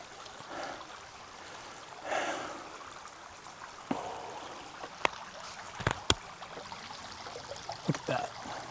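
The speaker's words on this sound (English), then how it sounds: "A beautiful, peaceful creek." A creek flows as a steady, rushing wash of water, fairly close, with a few sharp knocks and clicks on top and no speech.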